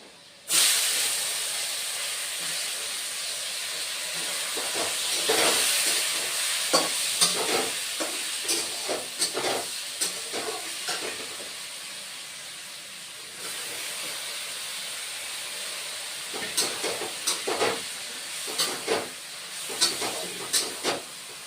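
Ridge gourd pieces frying in a hot pan for a vegetarian moong dal dish, a loud steady hiss and sizzle with repeated scraping stirs and clatters of the spatula throughout.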